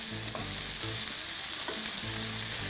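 Potatoes and mushrooms frying in butter in a pan give a steady, dense sizzle, broken by a few soft stirring scrapes and knocks.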